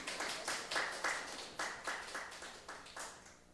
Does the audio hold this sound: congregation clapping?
yes